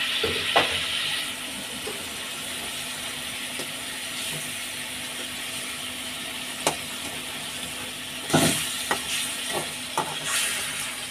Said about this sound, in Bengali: মশলাটা ভালো করে কষছে, কাঁচা গন্ধ যাতে না বেরোয় সেই জন্য একটু জল দিয়ে ভালো করে কষতে হয়